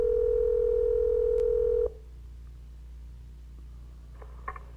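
Telephone line audio after dialing: a steady dial-type tone holds for about two seconds, then cuts off, leaving a faint hollow line hiss with a few soft clicks.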